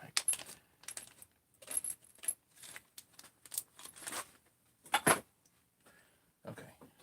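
Small metal bolt inserts clatter into a little bag alongside case bolts, a series of light jingling clinks and rattles in scattered bursts over several seconds.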